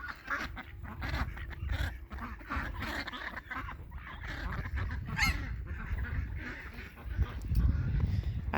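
Farm geese honk repeatedly in a loose, overlapping chorus at moderate distance, mixed with outdoor wind and rustling.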